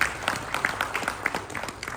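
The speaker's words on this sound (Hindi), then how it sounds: "पहले एक बार आप सभी लोग अपने लिए तालियां बजा लीजिए" A large seated audience at a lifestyle talk claps for themselves, brisk and uneven applause with some distinct individual claps standing out, close and steady.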